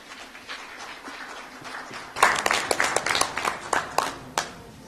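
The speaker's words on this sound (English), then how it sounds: "A round of applause, please." Audience applause at a formal South African government event on combating organised crime, starting as a faint patter and swelling after two seconds into scattered, fairly close claps that continue unevenly.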